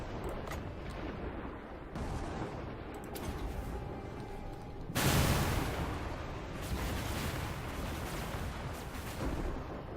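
Explosions and artillery-like blasts from the battle game Total War: Warhammer 2, a dense rumble of booming impacts with a loud burst midway, continuing as layered battle noise.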